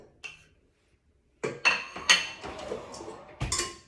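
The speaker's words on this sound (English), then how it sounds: "You're going to take your 2 sticks of butter, and you're going to cream them" Two sticks of butter being creamed in a bowl for a lemon cake: a utensil clinks and scrapes against the bowl in irregular knocks after a quiet pause.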